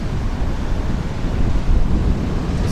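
Southern Ocean surf pounds against rugged granite rocks on a wild coast, a steady, loud roar of crashing water with heavy wind buffeting the microphone throughout, no voices.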